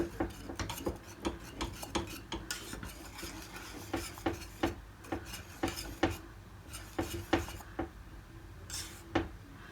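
Milk pudding with melting butter stirred in a pot for a caramel etimek dessert, a spoon scraping and rasping against the pot bottom in steady repeated strokes, close and clear with no talk.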